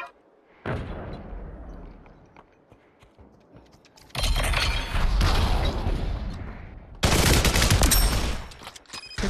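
Bursts of gunfire in the VR shooter Population: One, loud dense volleys that come in separated stretches with quieter gaps between them.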